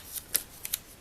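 Scissors cutting off a section of paper while planning, a few quick, close, crisp snips spaced a fraction of a second apart, faint and alone.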